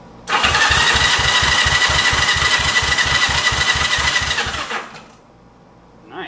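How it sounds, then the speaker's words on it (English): Starter cranking of a 1965 Honda CB77 Super Hawk motorcycle engine, a loud rhythmic chugging turnover close up that runs for about four seconds without firing, then winds down and stops. "So I'm going to turn it over for probably 5 or 10 seconds."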